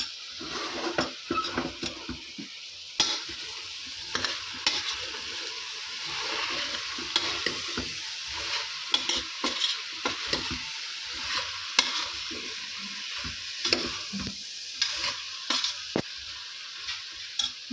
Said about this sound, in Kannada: ಈಗ ಫುಲ್ ಇದನ್ನೆಲ್ಲ ಮಿಕ್ಸ್ ಮಾಡ್ಕೊಡೋಣ